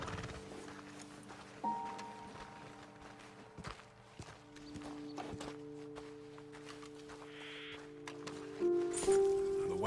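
Horses in Red Dead Redemption 2 clip-clop at a walk over ground and let out a neigh near the end, close and moderately loud beneath a sustained musical drone.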